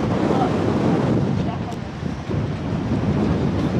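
Strong wind blowing at a beach, a loud continuous roar of gusts buffeting the microphone with surf noise mixed in, steady throughout with no clear talking.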